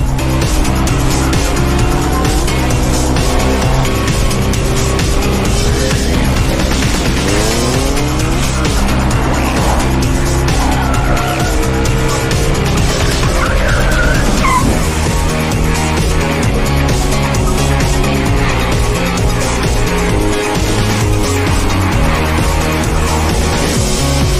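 A car drives fast on a road with tires squealing and skidding, the engine roaring loud and continuous throughout, with no voices over it.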